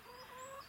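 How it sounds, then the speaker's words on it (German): A pet hen gives a short, soft clucking call, close by and alone. "Das ist mein Huhn. Ich habe etwa 6 Hühner."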